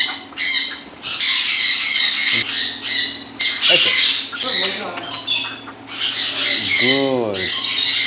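Loud, repeated squawks from an African Grey parrot at hand-feeding time come in rough bursts across the clip, with a falling whistled call near the end.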